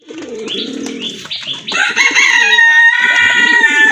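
Kagji pigeons call up close in a loft, giving a run of loud, repeated throaty coos and warbling calls that build into a longer sustained call toward the end.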